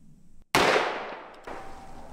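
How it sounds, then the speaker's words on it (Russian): A single .44 Magnum revolver shot, a sharp loud crack with a long decaying ring, followed by a fainter click and thud. "Погнали, 44-й Магнум."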